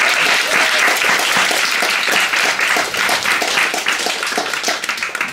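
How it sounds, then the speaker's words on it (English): An audience applauds after a poetry reading at a literary house, a dense steady wash of many hands clapping close and loud, thinning slightly toward the end. "Can we clap for you again?"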